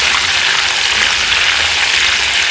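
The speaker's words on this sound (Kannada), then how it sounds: "ಉರಿ ಕಡಿಮೆ ಮಾಡ್ಕೋಬೇಕು, ನಿಧಾನವಾಗಿ ಫ್ರೈ ಆಗಬೇಕು ಅವರೆಕಾಳು." Field beans (avarekalu) fry slowly in oil over low heat, a loud, dense, unbroken hiss of sizzling held close throughout, with no talk or other sounds.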